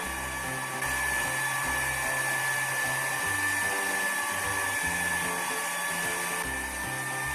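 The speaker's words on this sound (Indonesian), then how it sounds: "Kita mixer dulu sebentar sampai tercampur rata." An electric hand mixer whirs steadily while beating egg yolks into batter for a steamed marble sponge cake, a continuous close, even motor hum with a faint pulsing beneath it.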